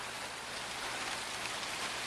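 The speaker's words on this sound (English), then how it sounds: "that cloud right there is dumping all the rain" Heavy rain from a sudden thunderstorm at Pine River, Minnesota, pours down in a dense, unbroken hiss close by, steady throughout, with no voices.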